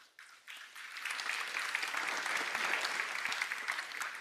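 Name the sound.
applause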